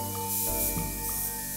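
A spray gun sends out a short hissing burst of clear coat onto motorcycle parts, quiet and steady over a background hum.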